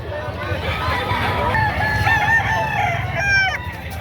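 Roosters crowing at a chicken sale in Padre Garcia, Batangas, several drawn-out crows rising over a busy background of clucking fowl and faint voices.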